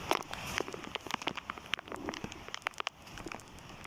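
Steady rain patters densely on a surface, a constant hiss with scattered crisp drop impacts, moderately close.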